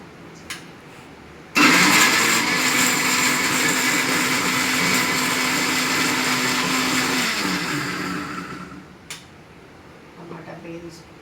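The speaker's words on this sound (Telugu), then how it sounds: "మిక్సీ పట్టేసుకుందాం టమాటా పేస్ట్కి." A kitchen mixer grinder whirs loudly as it blends tomatoes into paste, starting abruptly, running steadily for about six seconds, then winding down. Quiet kitchen clatter surrounds the motor run.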